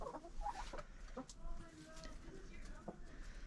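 Backyard chickens cluck softly near a fenced run during snowfall, a few short calls scattered over a quiet, steady outdoor background.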